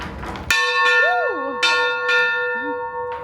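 An original steam locomotive bell rung by pulling its chain, a loud, close clang repeated about four times with long shimmering overtones ringing on between strikes, while a voice speaks briefly underneath.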